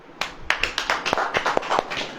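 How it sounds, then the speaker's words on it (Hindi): A congregation claps their hands together at a church sermon, sharp uneven claps coming in a loose rhythm of about eight or nine beats, fairly close and loud, with no talking over them. "ताली बजाओ।"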